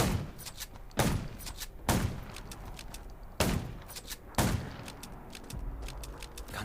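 Several loud gunshots ring out at irregular intervals in the video game Undawn, each a sharp crack followed by a short echoing tail, with faint clicks in between.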